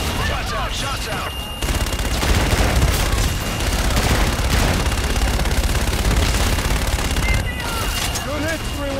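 Fire strike shots and heavy gunfire in Call of Duty Infinite Warfare, a dense sustained barrage of loud booms and rattling shots, with radio voices speaking over the first and last moments.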